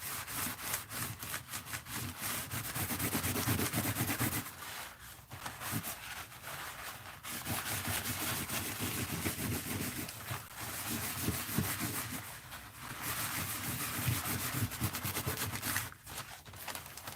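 Continuous scratchy rubbing on an art journal glue book, quiet and close, a dry abrasive texture with brief pauses and no talking.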